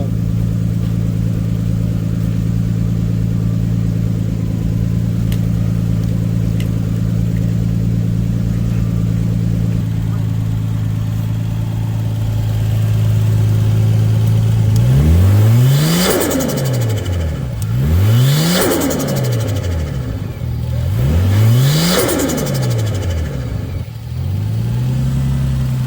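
A car that was stored over midwinter starts up and idles with a steady hum, then is revved hard three times in quick succession, each rev rising and falling loud and close.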